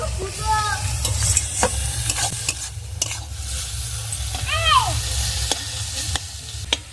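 Stir-frying softened pumpkin leaves with prawns in a pan, a steady sizzle with a low hum and repeated scraping and clinking of the spatula against the pan, close and loud.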